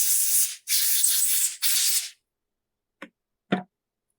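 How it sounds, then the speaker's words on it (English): Three close, hissing bursts while cleaning a Husqvarna 450 chainsaw carburetor, each lasting under a second, followed by two short sharp clicks. No one talks. "we're just going to clean the carburetor up a little bit before we open it"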